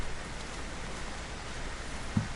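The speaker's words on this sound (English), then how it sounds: "Didn't even realize how hard it was raining, I guess." Steady hiss of heavy rain in Don't Starve: Shipwrecked, a dense broadband wash with no clear individual drops and one brief soft thump near the end, no voices.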